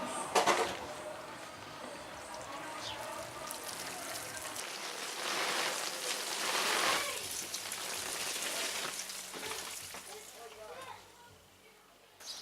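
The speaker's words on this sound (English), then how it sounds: "get the watering can or the hose pipe and just give it a quick blast over on the outside" Water from a hose pipe sprays steadily over the outside of a Vango Catalina 500SE five-person tent, a broad, continuous hiss with pattering surges, close and fairly loud, fading near the end.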